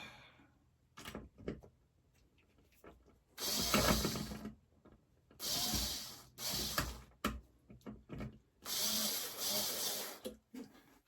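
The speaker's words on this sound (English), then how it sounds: "Would help if the screwdriver was going the right way, obviously." A powered screwdriver drives screws into wood on a model railway layout, several bursts of loud whirring grind separated by short pauses and small clicks.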